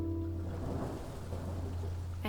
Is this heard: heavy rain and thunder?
yes